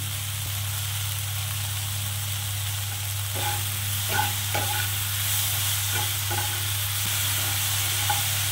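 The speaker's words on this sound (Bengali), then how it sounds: "এই কমিয়ে বাড়িয়ে একটু ভাজা ভাজা করব" Kachur lati fried and stirred in a pan for a vegetarian curry, a steady soft sizzle with intermittent scraping clicks of the spatula, close and moderate, with no voices.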